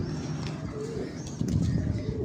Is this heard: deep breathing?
no